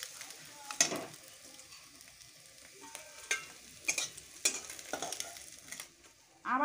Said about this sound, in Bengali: আবার অল্প করে এই মাছগুলো এরকম অল্প অল্প করে দিয়ে ভেজে নিতে হয়।